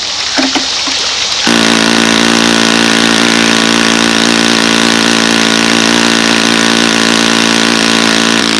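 A carbureted engine with a makeshift throttle wire catches after brief handling noises and then runs loud and steady, a close, even droning hum with no talk.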